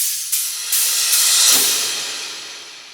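Dubstep transitional effect samples build as bright noise swells, with a few layered hiss bursts that rise, peak near the middle and then fade away.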